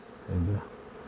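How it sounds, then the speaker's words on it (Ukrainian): A low, droning buzz of honeybees over a sunflower field during the main nectar flow swells for a moment over a steady hum of many insects, close and continuous with no talking. "Бджоли тут, я не знаю, мабуть, мільйони в повітрі. Гул стоїть класний."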